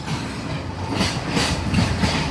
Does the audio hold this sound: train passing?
yes